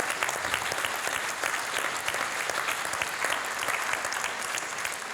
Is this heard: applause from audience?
yes